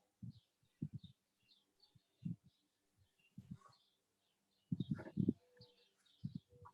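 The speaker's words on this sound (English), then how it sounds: "Do y'all hear birds?" Small birds chirp in quick, light bursts outdoors while low thumps and faint voices come and go nearby.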